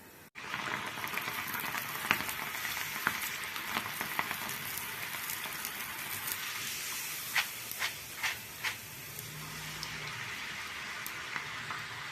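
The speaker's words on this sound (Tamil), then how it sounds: "எடுத்து பாத்திரத்தில் போட்டு கொஞ்சம் கொஞ்சமாக அப்படி வறுத்து எடுத்துடலாம்" Snacks fry in a pan, giving a steady close hiss and sizzle throughout with sparse pops and crackles, a few sharper spits near the end. No speech is heard.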